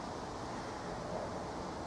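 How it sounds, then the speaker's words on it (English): Steady, broadband wind rush buffeting the microphone, continuous and fairly loud throughout with no talking. "I find it pleasant but very blowy, very windy."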